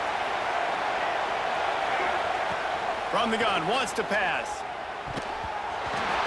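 Stadium crowd roar in College Football 26 during a South Carolina vs LSU game, a steady broad wash of noise under a commentator's talk.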